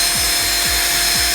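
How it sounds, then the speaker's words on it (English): A power drill steadily spins a Vespa ET4 starter motor armature, giving a continuous whirring hum with a faint rhythmic rub repeating about every half second, close and alone. "I'll recommend putting it on the drill like this"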